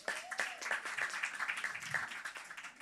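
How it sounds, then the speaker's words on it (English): A modest audience at a panel on food systems and landscape transformation claps for a panelist; the individual hand claps stay distinct and uneven, quiet and somewhat distant. "Give her a round of applause."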